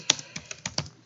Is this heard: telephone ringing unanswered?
no